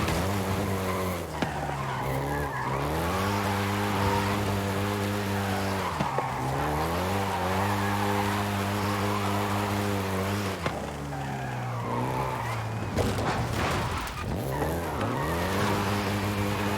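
A Volkswagen Golf GTI in Forza Horizon 5 drives hard, its engine note climbing through gears and dropping on shifts, with tires squealing and skidding as it corners, loud and steady throughout.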